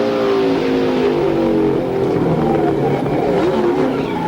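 NASCAR race car engines heard onboard with Mark Martin's car at the 1999 Dura Lube K-Mart 300, a continuous loud droning roar with pitch wavering as the pack runs together, no talk.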